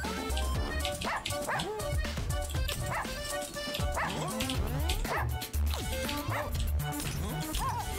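Dogs barking, yipping and whimpering in the video game Russian Subway Dogs, rapid repeated barks over continuous game music and effects, loud and busy throughout.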